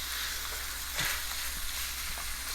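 Chili paste frying in oil for a Malay-style paneer sambal, a close, continuous sizzle with a few soft stirring scrapes and a low steady hum beneath, no voices.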